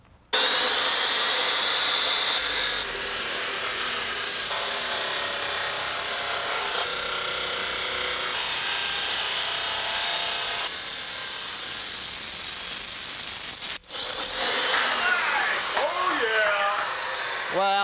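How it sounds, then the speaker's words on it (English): Power saws and other power tools run continuously on a workshop job, a steady loud whine with shifts in pitch and a brief break near the end before a rising, changing tool sound. "we got the guys working in there with some power tools"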